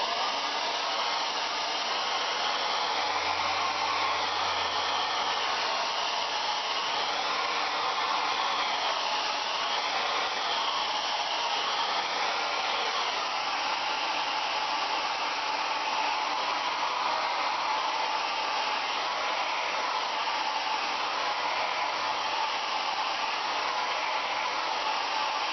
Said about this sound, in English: so hairdryer, my little trusty hairdryer that's done me proud for years